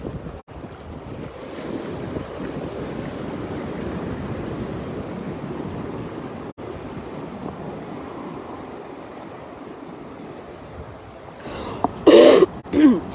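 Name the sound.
a cough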